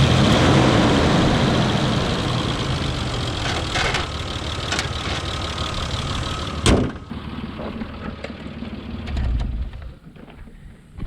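A 1996 Isuzu Rodeo with a 3.2 litre GM V6 idles close by. It gives a rough, steady rumble like an old diesel and has wiring issues. A sharp knock breaks in partway through before the idle carries on.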